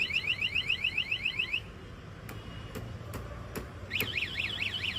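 Anti-theft security alarm on a Pulsar motorbike, loud and near, sounding in fast warbling electronic pulses that stop, give way to a few sharp clicks, then resume with a different wavering tone.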